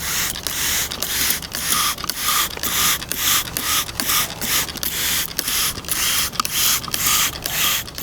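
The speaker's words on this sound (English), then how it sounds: "Now let's give it a little spray." Rapid, repeated hissy spray bursts from a spray bottle misting a plant, about a dozen short pumps in steady rhythm, close and fairly loud with no talking.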